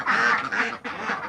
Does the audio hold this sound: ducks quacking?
yes